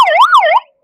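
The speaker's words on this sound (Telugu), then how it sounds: "అది స్విచ్ ఆన్ చేసి ఒకసారి సైరన్ వేస్తారు చూడండి సార్." A Hyderabad traffic police patrol bike's siren is switched on for one loud, close wailing rise-and-fall sweep lasting about half a second, then cutting off abruptly with no talk.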